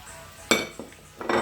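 Vegetables with ginger and garlic tossed in a pan, a few sharp clanking bursts of metal and food shifting, close and moderately loud, with no talking.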